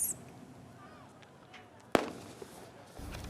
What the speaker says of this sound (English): some protesters threw petrol bombs and fireworks at police outside the building